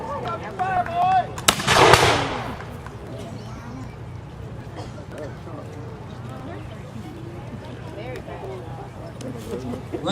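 A brigade fires a musket volley during a battle reenactment at a Native Village show in Okeechobee, Florida, one sharp loud blast near the start followed by outdoor crowd murmur and shouting voices.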